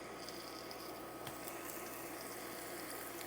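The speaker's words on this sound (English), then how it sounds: "I've got a few pieces of lemon that I want to brown" Pieces of lemon brown gently in oil in a pan for chicken francese, giving a faint, steady, even sizzle with no breaks.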